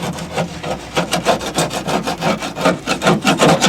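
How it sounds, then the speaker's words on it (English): A gasket scraper scrapes old strip caulking off the body of a 1965-1970 Ford Mustang, a close, loud series of rhythmic rasping strokes, roughly three per second, with no talking. "You can see I'm taking my gasket scraper here. And I will just scrape that off."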